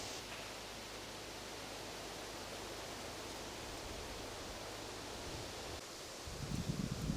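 Steady broadband rush of a breeze blowing across a roof overhung with ivy and trees, soft and continuous with no voices.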